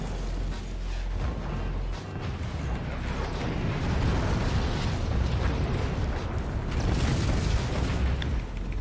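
Flak anti-aircraft fire bursts in a video game, a continuous rumble of heavy booms and dull explosions rolling on close and loud with no pause.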